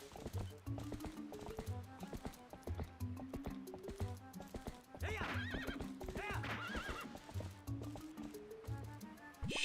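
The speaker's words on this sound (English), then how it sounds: "I just ran my horse into the wall." Rhythmic galloping hoofbeats from a video game horse drive steadily along while it neighs loudly several times over the top, with music-like tones underneath.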